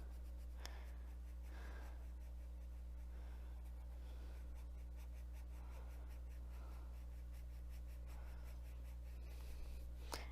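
Colored pencil scratching across smooth coloring-book paper with quick, repeated strokes, soft and close over a steady low hum, with a couple of brief louder scrapes.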